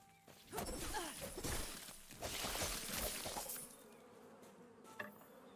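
Pet bees summoned in the action RPG Last Epoch give off buzzing mixed with sharp shattering combat effects, busy and layered for a few seconds before thinning out, with one more sharp hit near the end.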